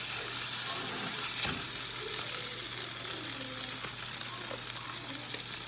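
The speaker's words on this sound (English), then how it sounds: "get the cream cheese in here. Butter up the skillet real good." Butter and cream cheese sizzle steadily in a buttered skillet for a crab and shrimp spinach artichoke dip, a continuous close frying hiss with a few faint bumps and no voices.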